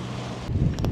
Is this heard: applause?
no